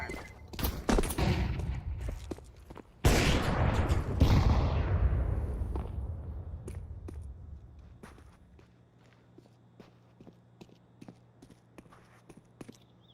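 A flashbang grenade goes off in Counter-Strike 2: a sharp loud burst followed by a ringing, decaying wash, amid scattered quick footsteps and clicks before and after.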